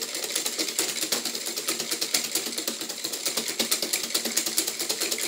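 Hand whisk beating a lemon tiramisu egg mixture in a bowl, heard as a fast, steady, close rhythmic clatter of wire against the bowl with no talk.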